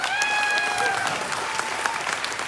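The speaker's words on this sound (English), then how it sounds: "I think we owe him a big round of applause," Applause for Kane Austin at a stock show, a dense, sustained crowd clapping, with a voice speaking over the start of the clapping.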